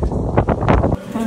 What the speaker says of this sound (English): It's windy as shit out here.